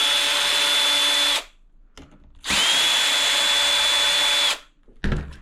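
Power drill whirs in two long, loud bursts as screws are backed out of an alpine ski touring adapter, with a brief pause between runs and a short final start.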